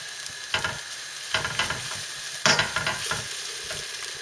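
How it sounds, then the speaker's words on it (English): Onion and crushed garlic fry in olive oil in a pan with a steady close sizzle, broken by several bursts of stirring and scraping. "In the fry pan, heat up a couple of tablespoons of olive oil, add the onion, the crushed garlic,"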